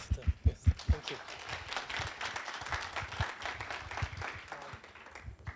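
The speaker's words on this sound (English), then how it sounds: "give them a round of applause for all of them" Conference audience applauding the speakers: a few loud close claps open, then steady crowd clapping carries on through to the end.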